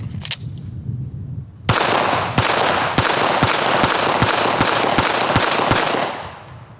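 9mm Gen 6 Glock pistol fitted with a Ramjet compensator, fired outdoors. Two sharp shots open the clip, then after a short pause about nine loud, evenly spaced rapid shots follow, with echo ringing between them.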